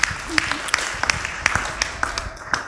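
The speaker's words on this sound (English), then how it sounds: "Give a round of applause." Audience applause after a church talk, a short burst of scattered hand claps at moderate level, with some murmuring voices underneath.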